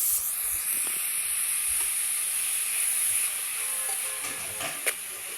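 Sliced onions frying with salt in a pan over a wood-fired stove for beef curry, a steady close bright sizzle throughout with a faint click near the end.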